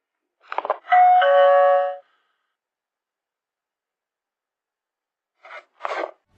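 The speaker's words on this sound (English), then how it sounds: "with a heavy paw, it reached out to press the doorbell" A doorbell rings when a bear presses the button: a ding-dong chime with a ringing tone, then silence, then two short faint chimes.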